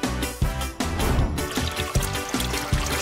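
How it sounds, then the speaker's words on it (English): Water poured from a container onto soil sown with seeds, a close, loud splashing pour broken into several bursts with short pauses between them. "Don't forget to water them."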